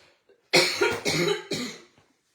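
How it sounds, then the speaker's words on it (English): Three or four harsh coughs in a row, close and loud, with short breaths between them and silence around. "I'm really sorry for coughing"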